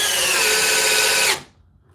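A compact Milwaukee drill set to speed 2 drives a screw with a loud, steady whirring whine for just over a second, then cuts off abruptly into near silence.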